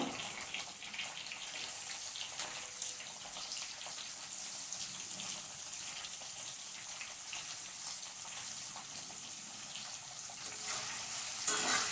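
Onion and tomato fry in a pan for a prawn curry, giving a soft, steady sizzle with faint crackles, quiet and continuous throughout.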